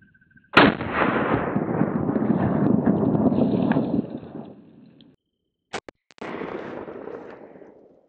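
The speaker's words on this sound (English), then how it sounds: "It's 9 pellet coming out of a 20-inch barrel, so it's gonna have good velocity." A shotgun loaded with 9-pellet buckshot and fitted with a 20-inch barrel fires one loud, close blast that rolls away into a long echo, then a few sharp clicks of handling are followed by a second, softer rumble.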